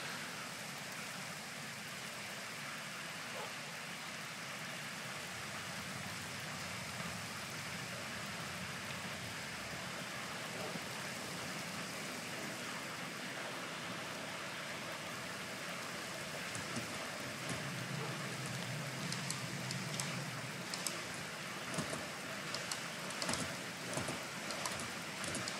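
Steady rain falls across a Minecraft world as a continuous broadband hiss, with brighter patter and a low rumble building in the final seconds.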